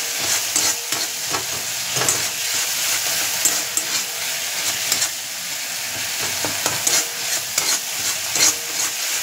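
Ghugni masala stir-fried in white oil, a continuous close sizzle broken by frequent scraping strokes of a spoon against the pan.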